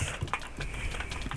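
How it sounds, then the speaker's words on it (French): Soft, rapid computer keyboard clicks during a Minecraft CubeCraft match, a quick irregular patter of keystrokes heard faintly and close to the microphone, with no talking. "moi, mon clavier, je sais pas si vous l'entendez, mais il arrête pas de spam clic."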